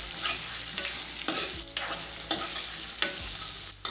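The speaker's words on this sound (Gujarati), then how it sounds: "કાંદાને પણ આ રીતના હલાવી લઈશું એકવાર" Onions and pointed gourd with potatoes are stirred in a frying pan, a steady sizzle broken by several sharp scraping stirs spaced about half a second to a second apart, close and moderately loud with no voices.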